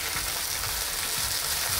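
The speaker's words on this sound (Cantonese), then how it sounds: "好，已經燒熱啦，我哋落啲油先。 首先我會爆香啲葱，" Spring onions frying in hot oil in a wok give a steady, dense sizzle and crackle that fills the whole moment, loud and continuous.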